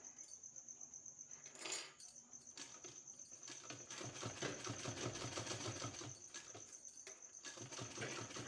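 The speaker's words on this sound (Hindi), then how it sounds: "हमको इसमें सिलाई लगा देना है।" A sewing machine stitches a 2-inch strip onto a sleeve, running as a faint, continuous rapid whir under a steady high-pitched hum, with a few short handling bumps.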